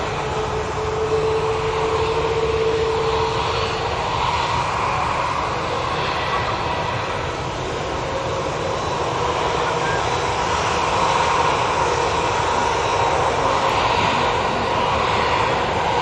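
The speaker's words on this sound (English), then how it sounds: "The Turkish A321 arrive." A Turkish Airlines Airbus A321 arriving at Manchester Airport gives a steady, loud jet roar with a whining engine tone that holds throughout, swelling slightly near the end.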